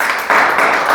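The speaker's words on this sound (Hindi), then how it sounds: "ये शाबाश, ताली बजाएंगे इनके लिए।" Brief burst of classroom clapping as students applaud a classmate during a Class 6 maths lesson on integers, close and fairly loud, rising sharply partway through the short moment.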